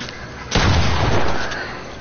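A single gunshot in a video game: one sharp, loud crack followed by a short rumbling tail, standing alone without talk.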